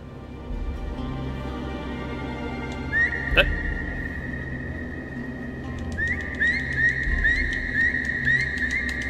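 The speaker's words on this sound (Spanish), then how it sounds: "Silbando con furia. Ya podría servir de algo el silbito este en esta zona." Bursts of shrill, rising whistles repeat in the video game The Pathless, one sharp high-pitched blast midway and a rapid series of furious whistle calls later, over a low droning ambient background.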